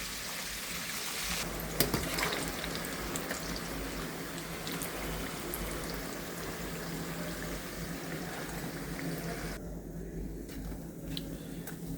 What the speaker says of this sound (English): You can hear it sizzling, look.